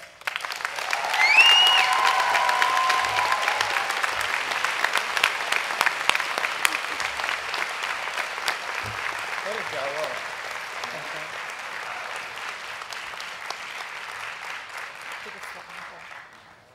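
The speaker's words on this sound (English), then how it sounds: "Please join me in applauding her." Audience at a university public health commencement ceremony applauding an award winner, sustained broad clapping that rises quickly, holds steady, and fades toward the end, with brief voices at the start.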